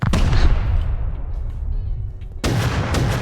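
Gunfire in the video game Rust inside a trap-filled cave base, a loud dense burst of shots and booms that thins out, then returns sharply near the end.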